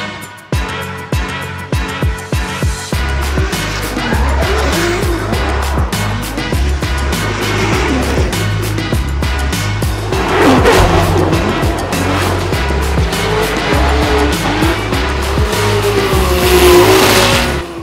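Drift cars at a Formula Drift event in Long Beach roar past with rising and falling engine notes and squealing, skidding tires, loud and continuous, opening with a run of sharp bursts.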